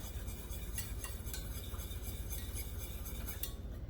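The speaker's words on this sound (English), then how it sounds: "first I wanted to kind of whisk in that sour cream" A spoon whisks sour cream into a mixture in a bowl, making a fast, continuous scraping and clinking rhythm, soft and close.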